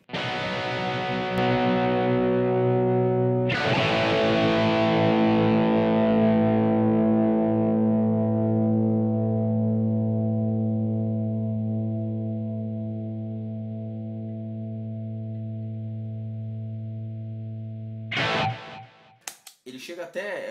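An electric guitar chord rings out with overdriven, saturated tone and long sustain, then is cut off with a few scratchy string noises near the end.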